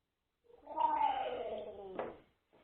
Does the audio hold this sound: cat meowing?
yes